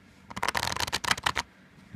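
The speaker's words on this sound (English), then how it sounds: "Riffle shuffles really well." Bee playing cards being riffle shuffled, a close, crisp burst of rapid fluttering card snaps lasting about a second before stopping.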